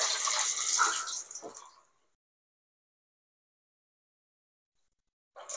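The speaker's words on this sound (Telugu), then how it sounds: "మీకు ఆయిల్ బాగా హీట్ అయినాక మనం కబాబ్ పీస్ వేయాలి" Chicken kebab leg pieces go one by one into hot oil over a medium flame, giving a loud, close, hissing sizzle for about two seconds. Silence follows, then a brief burst of sizzle returns at the end.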